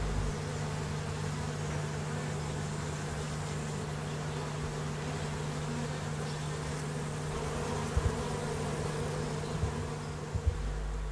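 Buckfast honey bees buzz steadily around their hives, a dense continuous drone with a low hum beneath, close and unbroken for the whole stretch.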